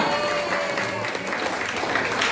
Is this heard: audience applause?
yes